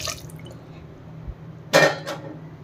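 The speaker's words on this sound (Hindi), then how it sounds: "यहाँ हम इसमें डालेंगे थोड़ा सा पानी" A little water poured into a large pot of cream collected for making ghee, a brief splashy pour near the mic with a couple of drips around it and no talking.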